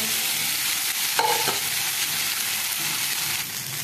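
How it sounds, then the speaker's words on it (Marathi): Leftover cooked rice with red chutney and salt is stirred in a hot pan, a steady sizzle with a few scraping stirs of the spoon, close and without talk. "भाताला छान हलवून घ्यायचं।"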